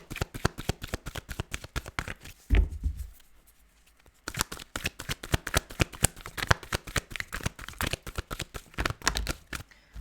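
Tarot cards shuffled by hand in a long run of fast, crisp riffling flicks, pausing briefly near the start, then resuming at a steady quick rhythm, close and clear with no talk.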